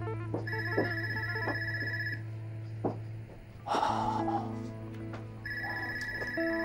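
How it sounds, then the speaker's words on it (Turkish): A telephone rings in repeated electronic trills, with a pause in the middle filled by a short breathy rustle, fairly close and clear. "Telefon çalıyor."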